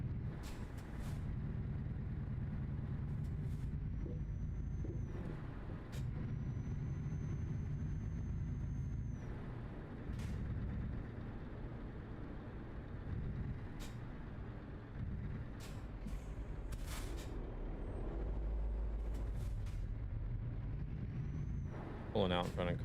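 Truck air pressure building up in a driving video game: a steady, low mechanical hum and rumble with a faint high whine, running continuously for over twenty seconds under a speaking voice.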